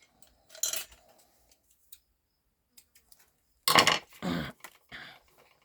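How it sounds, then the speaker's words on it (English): Scissors snip ribbon ends off a handmade card: one short cut near the start, then three crisp, close snips in quick succession a few seconds later, with quiet pauses between. "now we can snip our little ends off"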